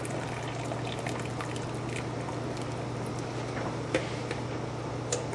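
Water draining off boiled cabbage leaves into a bowl, a soft steady trickle and faint splashing heard close but quiet, with a couple of small clinks near the end.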